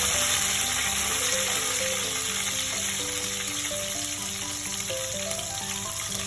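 Green chillies and curry leaves frying in hot oil on a slow gas flame give a loud, constant sizzle with spattering crackle, under soft background music.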